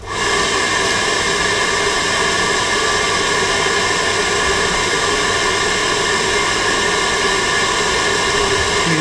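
A Riello RDB kerosene oil burner runs with a steady, loud broadband roar and whine from its fan and pump during an ignition attempt, unbroken for the whole stretch with no voices.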